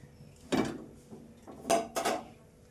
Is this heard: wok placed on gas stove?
yes